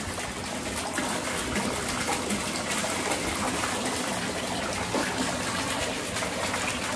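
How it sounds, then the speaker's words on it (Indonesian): A 45-watt pond pump runs on solar power, pushing out a steady, fairly forceful gush of splashing water that hisses evenly and continuously at close range. "Jadi pompanya sudah berjalan, airnya lumayan cukup keras ya."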